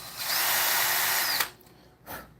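A power drill runs steadily and loudly for over a second, then cuts off, followed by a short burst of handling noise, apparently during a home crafting project.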